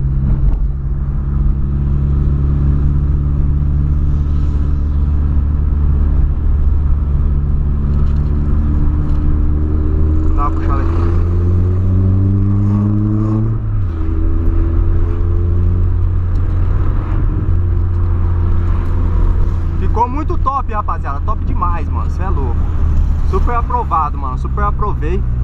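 A Volkswagen Polo engine with a straight-pipe exhaust revs loudly and continuously, its deep rumble rising and falling in pitch, heard from inside the car.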